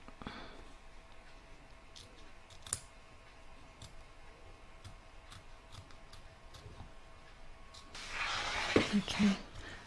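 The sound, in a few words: trimming embroidery fabric with scissors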